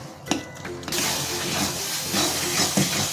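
Ginger garlic paste sizzles in a pan on low heat while being stirred for prawn masala, with a soft tap at the start and then a steady, close hissing that carries through to the end.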